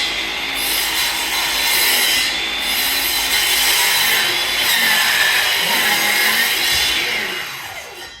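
A DEWALT DCS361B 20V MAX cordless sliding miter saw cuts through wood, its motor bogging down into a loud, rasping grind that swells and eases for several seconds before trailing off.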